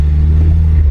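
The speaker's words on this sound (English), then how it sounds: "Oh, the exhaust. Yeah. I can already hear it." Deep steady exhaust rumble from a 2020 Toyota Supra MK5 while driving, a loud low drone heard from inside the car with no talking.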